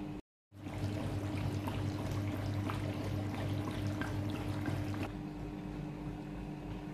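An O3 fruit and vegetable washer runs with water, giving a steady churning, bubbling wash sound heard up close after a brief silent gap, then dropping to a quieter hum near the end.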